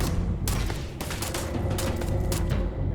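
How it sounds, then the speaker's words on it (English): Rapid, dense bursts of enemy gunfire in the space game Starfield, a continuous close volley of overlapping shots and booms with sharp cracks punctuating the stream for the whole stretch. "There's someone else shooting me, and I don't like that."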